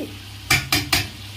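Cooked rice being stirred in a cooking pan, three quick scraping strokes of a utensil against the pan in an even rhythm, close and fairly loud, no talk.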